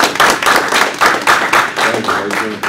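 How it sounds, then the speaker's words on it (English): Brief round of applause at a New York City emergency planning committee meeting, a small group clapping in an uneven, moderately close patter for under three seconds. "just as a little round of applause"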